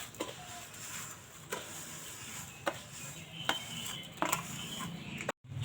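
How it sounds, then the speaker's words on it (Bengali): Fried vermicelli being stirred into melted sugar in a pan, heard as scraping utensil clinks against the pan at irregular intervals over a low background hiss, fairly quiet, with no talking. "সিমইটা দিয়ে এবার ভালো করে মিশিয়ে নেব"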